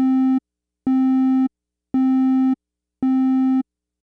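Four evenly spaced beeps of a pure, slightly buzzy synthesized triangle wave at A220, with only odd harmonics, each about half a second long with short silences between.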